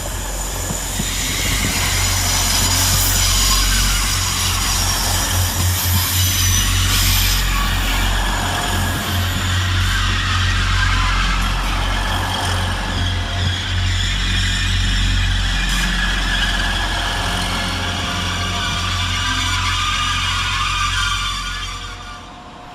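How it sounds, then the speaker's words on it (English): A Grand Central Class 180 diesel train arriving at Halifax railway station rumbles loudly with a deep, steady engine drone and rail noise, holding near and strong for most of the span before easing off at the end. "Next in is big old shouty 180-107, working the 1503 Grand Central service from Bradford Interchange to London King's"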